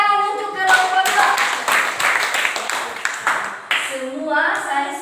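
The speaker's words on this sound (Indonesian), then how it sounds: "tepuk tangan untuk kelompok 2" Classroom applause for a group of students: a burst of many hands clapping loudly and briskly for several seconds, with children's voices calling out at the start and near the end.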